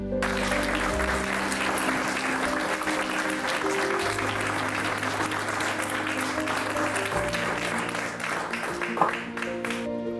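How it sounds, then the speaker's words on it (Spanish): Sustained applause from an audience at an interreligious diversity day event, dense and steady clapping for around ten seconds with a faint low hum beneath. "Un fuerte aplauso."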